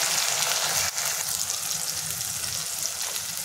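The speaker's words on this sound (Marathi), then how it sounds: "त्याच्यामध्ये 1 टोमॅटो टाकून घेऊयात। ते पण आपण छान तेलामध्ये परतून घेऊया" Tomato sautéing in hot oil with golden-browned onions, a continuous close sizzling hiss with a brief dip near the start as the pan is stirred, steady and even afterwards.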